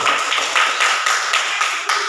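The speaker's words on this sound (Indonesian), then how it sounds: "Tepuk tangan untuk kelompok Matahari dulu." A classroom of students applauds a student group, the clapping steady and fairly close for about two seconds with no voices over it.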